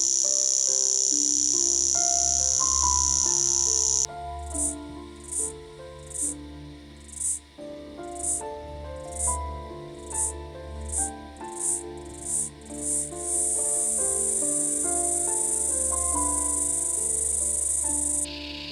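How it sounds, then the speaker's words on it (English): Male Australian cicadas sing in rhythmic pulsing bursts, a dozen evenly spaced buzzing calls that swell into a continuous shrill drone, set over soft music. "Male adult cicadas search for females by singing to them."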